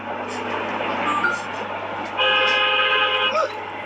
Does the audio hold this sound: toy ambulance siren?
no